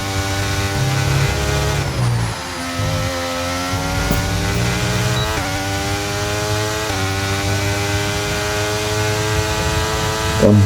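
Formula 1 racing car engine screaming through an onboard lap in F1 23, loud and continuous with rising pitch sweeps through the gears and a sharp downshift drop near two seconds, no talk.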